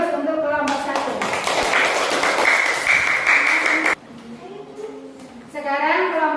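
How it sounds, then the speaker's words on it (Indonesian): A classroom of students applauds group 1 after their presentation, a short burst of dense clapping under the teacher's voice, ending abruptly as she resumes speaking. "Kita beri aplaus untuk kelompok 1."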